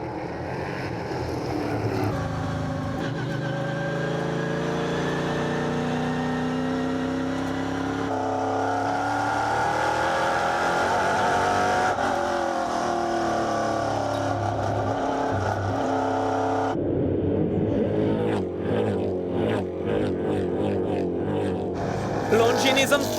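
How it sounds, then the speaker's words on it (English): NASCAR stock cars roar away from the start at Tours Speedway in France. Loud, sustained engines rise and fall in pitch as the pack accelerates past, with layered revving and gear changes mixed with some voice-like sound. "Time to leave the start with the sounds of NASCAR."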